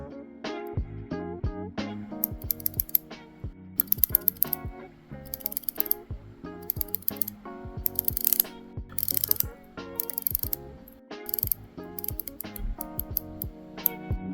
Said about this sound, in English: Now let's test the bezel action.